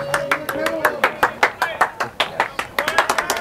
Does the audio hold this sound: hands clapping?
yes